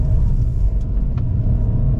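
A GAC GS3 SUV with a 1.5-litre naturally aspirated engine and six-speed automatic straining uphill in third gear on a hill climb, a loud, steady low engine drone and rumble heard from inside the cabin.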